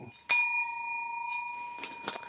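A bright, ringing bell chime strikes once and sustains with a long shimmering decay, followed by faint soft rustles.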